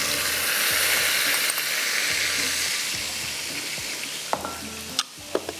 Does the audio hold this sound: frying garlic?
yes